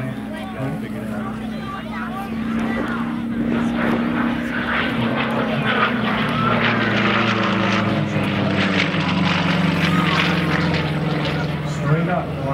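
A Yak aerobatic propeller plane drones in flight as its engine note rises and steadies, heard from the ground at moderate distance while a person talks over it.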